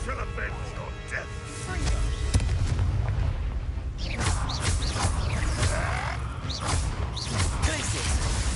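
Fiery Confringo blasting spells burst in a Hogwarts wizarding video game, several loud booming explosions rolling over a constant bed of game noise, with voices speaking through the action.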